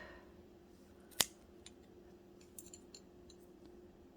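A single crisp snip of scissors cutting a strand of yarn while finishing a knit bow on a 22-pin knitting machine, close and sharp, followed by faint soft handling clicks against quiet room hiss.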